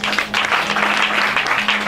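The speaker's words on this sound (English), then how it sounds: "Now, you can clap your hands, one of you, please." A church congregation clapping hands, a steady, dense patter of many clapping hands, fairly loud and close and continuous, with a constant low electrical hum underneath.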